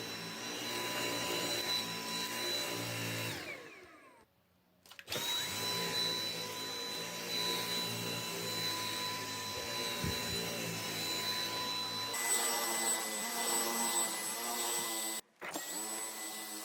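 Dyson V8 cordless battery vacuum running steadily over worn, longer-pile carpet, a loud continuous motor whine with tonal hum that briefly drops out twice and shifts pitch partway through, with no talking.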